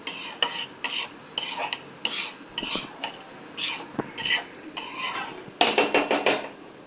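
Flour being roasted in a pan over a low gas flame for sukhdi, a spoon scraping and stirring it in a steady series of close, distinct metallic scrapes and clinks, with a quicker cluster of scrapes at the end and no talking.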